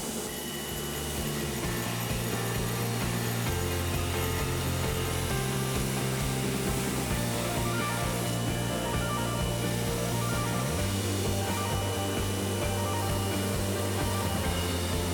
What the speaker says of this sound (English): I will spend a little bit of time on the grinder to clean up the butcher and establish the chisel profile cleanly.